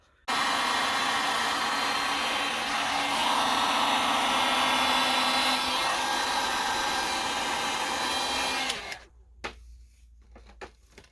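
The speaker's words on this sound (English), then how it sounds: "Okay, so I got the heat gun" A heat gun roars steadily at close range, blowing hot air onto drying paint for about eight seconds before cutting off abruptly, leaving a quiet room with a few faint knocks.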